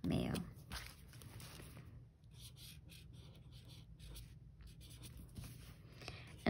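A pen scratching out a label in a plant journal, a close run of dry, papery scribbling strokes with short breaks between words, opening with a brief louder rustle and set over a low room hum.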